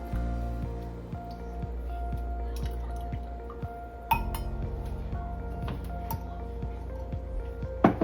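Loose-leaf tea is poured through a regular kitchen strainer into a kombucha jar, giving a steady liquid trickle with scattered glassy clinks and drips up close.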